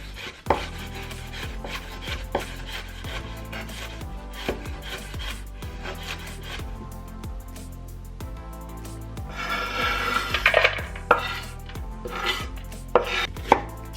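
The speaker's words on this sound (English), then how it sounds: "Cut cilantro." Rapid knife chops through fresh cilantro on a cutting board, a steady close run of crisp strikes with brief pauses and a busier, scrapier stretch near the end, no voices.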